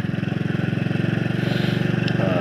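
A motorcycle engine runs steadily at idle, a close, even throbbing pulse that stays constant throughout without any voices, recorded by a smartphone mounted on the motorcycle's body.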